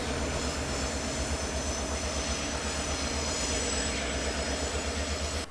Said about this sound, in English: Two Canadian Pacific GP38-2s run light to rescue a disabled train 458 on May 28,